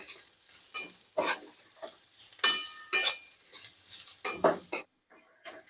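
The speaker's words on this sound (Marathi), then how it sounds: "सर्व एकजीव करून 3-4 मिनिटापर्यंत परतून घेऊ." Crumbled flatbread being stir-roasted in a pan for churma, with a spoon scraping and clinking against the pan in irregular bursts, close and moderately loud with short pauses between strokes.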